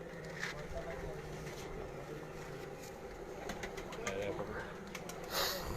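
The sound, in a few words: pigeons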